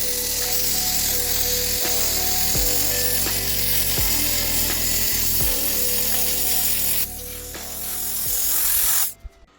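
A plasma cutter at 55 amps slices through three stacked quarter-inch steel plates, a loud steady hissing roar with a buzzing hum and brief pulses, ending with a short burst and then silence.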